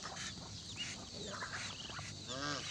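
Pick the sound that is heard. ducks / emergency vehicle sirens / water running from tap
ducks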